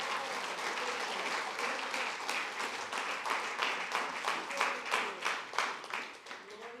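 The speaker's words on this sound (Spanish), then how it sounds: "Denle un fuerte aplauso al Señor." A church congregation gives loud, sustained applause during a Spanish-language worship service, many hands clapping together and gradually falling into a strong rhythmic beat.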